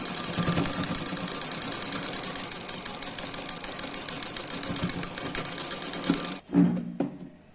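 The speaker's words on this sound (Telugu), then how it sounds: "రెండో సైడ్ కూడా సేమ్ ఇట్లే స్టిచెస్ వేసుకున్నాము" A sewing machine stitches a kurta in a fast, rhythmic run of close, loud needle clatter, then stops abruptly with a brief thump of handling the fabric.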